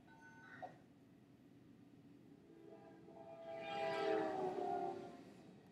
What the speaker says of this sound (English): Listen to the pitch of the train's horn as it passes by the guy with the camera.